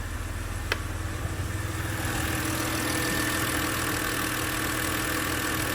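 A BMW X3 E83 engine idles with a coil-pack misfire, giving a steady, fairly close low drone broken by a brief stumble early on, with no talking.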